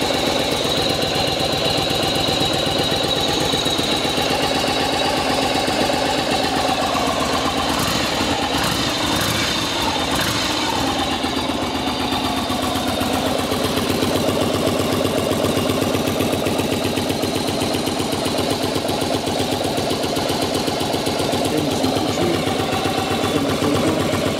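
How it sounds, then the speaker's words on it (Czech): A Yamaha Virago 1100 motorcycle engine idles steadily and close by for the whole stretch, a continuous low throbbing rumble with no talk over it. "Ale motor jede člověče hezky."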